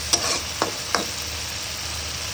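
Spice paste fries in oil in a pan for a fish-head rice dish, a soft continuous sizzle broken by three brief stirring scrapes early on, close and fairly quiet, with no talk.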